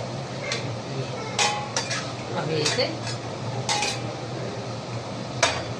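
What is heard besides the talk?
utensil clinking in pot while adding chopped boiled eggs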